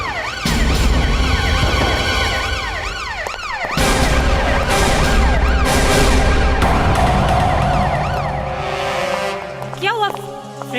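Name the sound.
siren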